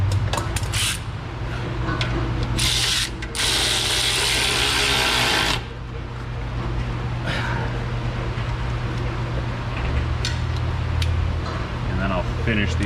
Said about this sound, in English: Finish these off with this super long ratchet to get the appropriate high level of torque achieved.